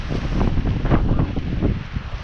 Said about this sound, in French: il y a pas mal de vent aujourd'hui